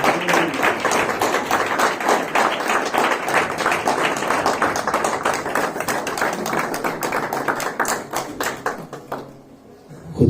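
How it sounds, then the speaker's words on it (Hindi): Loud, dense applause from a church congregation welcoming a pastor to preach in Islamabad, steady overlapping clapping for about nine seconds before fading away near the end. "जोरदार ताली"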